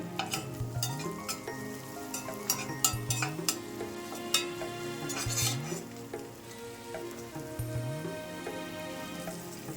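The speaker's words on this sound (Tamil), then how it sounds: "வெங்காயம் நல்லா வதங்கிடுச்சு" Onions sautéing in a pan for coconut milk rice, a gentle sizzle under repeated metallic scrapes and clinks of a spoon stirring, close by and fairly quiet, with no voices.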